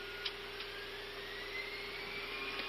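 Airbus A320 jet engines spooling up for takeoff heard from inside the cockpit, a steady whine and hum with a slowly rising tone under faint cockpit clicks, moderate and muffled.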